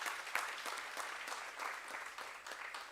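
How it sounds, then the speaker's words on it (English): Audience applause at a Women's Month event, a fairly faint, continuous patter of many hands clapping with a few sharper claps, steady for the whole short stretch. "please give her another round of applause"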